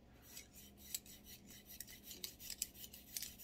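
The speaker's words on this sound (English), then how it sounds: "we're going to go in from the back and just start scrubbing" A cleaning brush scrubs back and forth through the barrel of a Taurus 709 Slim pistol, giving close, quiet, gritty rasping strokes in an irregular rhythm with no talking.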